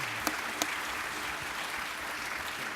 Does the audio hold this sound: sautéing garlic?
no